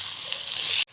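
About three tablespoons of water pour into frying chicken korma masala in a pan, a short steady hiss and gush lasting under a second before cutting off abruptly.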